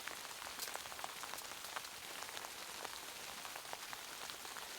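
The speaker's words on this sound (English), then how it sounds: "which is sort of snow sleet" Snow and sleet patter steadily on a car tent during a winter storm, a soft, dense hiss of fine ticks and taps with no voices.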